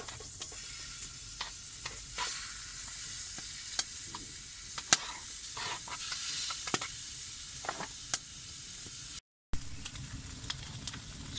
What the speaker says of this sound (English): Just browning the chicken before I pour the sauce in.